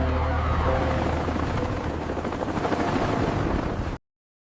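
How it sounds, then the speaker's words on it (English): A helicopter's rotor chops loudly and steadily overhead, a dense thudding roar with engine whine, close and continuous until it cuts off abruptly. "Get on the helicopter now!"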